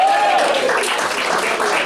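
Brief burst of audience applause at the Tucson Musician's Club, close, dense clapping with a faint voice at the start.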